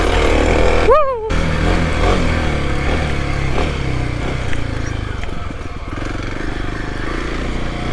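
A Kawasaki KLX 300 dirt bike ridden on tight, technical trails. The engine drones steadily close up, a brief whooping voice cuts in near the start, and a rough rumble carries on throughout.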